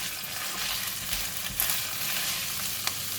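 Bok choy stems and tofu frying together in a hot pan, a steady close sizzle with faint stirring scrapes and a couple of brief spatters.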